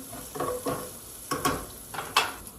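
Fish sizzling in a hot pan while being stirred, with several bursts of crackling sear and scraping spread over a few seconds, close and fairly loud, no voices.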